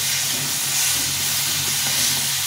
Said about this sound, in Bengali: এভাবে করে সুন্দরভাবে ভেজে নিতে হবে ডালটা